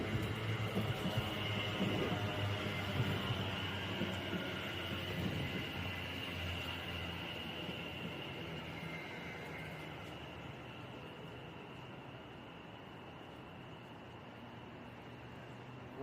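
A train pulling into Aston station, bound for Walsall from Wolverhampton, makes a broad, steady rumble and hiss that slowly eases and fades as it slows, heard at a moderate distance.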